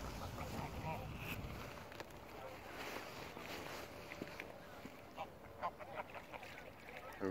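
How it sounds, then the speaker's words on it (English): Ducks quacking outdoors by a river in West Bridgford, Nottingham, amid wind and water noise, with people talking nearby. "Here we are, feeding the ducks"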